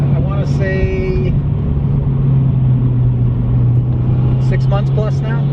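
A 2019 car fitted with an Invidia catback exhaust holds a deep, steady droning note throughout, loud and close, while brief bursts of other sound appear at the start and near the end.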